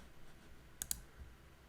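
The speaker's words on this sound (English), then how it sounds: "I'm going to use my arrow key on my keyboard, just like that." An arrow key on a computer keyboard is tapped twice in quick succession, giving two small, crisp clicks close to the mic against a quiet room.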